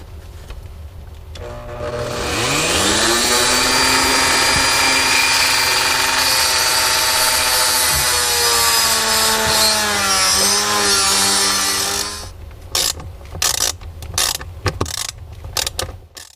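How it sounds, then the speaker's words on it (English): A power drill with a flexible drill bit bores into a spot on a catamaran during a diesel heater install, giving a sustained rising whine for about ten seconds, close and loud, followed by short intermittent bursts. "Luckily, I have a little flexible drill bit."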